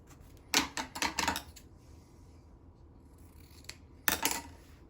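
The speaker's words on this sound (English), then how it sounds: "I'm going to trim this ribbon, and I'm going to trim that point" Scissors snip through ribbon while a patriotic window decoration is trimmed: a quick run of crisp cuts, then a pause and a second short burst of snips, close and clear.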